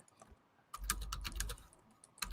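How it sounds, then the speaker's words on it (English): Rapid keystrokes on a computer keyboard, a dense burst of clicking taps lasting under a second, then a short pause and a few more keys struck, close and fairly loud. "I'm typing you something."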